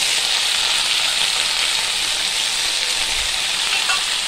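Chopped vegetables frying in a pan give off a loud, steady, close sizzle that holds evenly throughout, with no talking.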